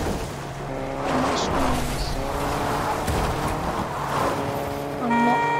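A car drives in the Fortnite video game, its steady engine drone running throughout and overlapping with game music and short horn-like tones.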